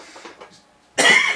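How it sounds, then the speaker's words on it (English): A person coughs in a sudden loud burst close to the microphone, following a quieter stretch of faint room noise, while showing LEGO display cases. "a bit of a coughing fit there"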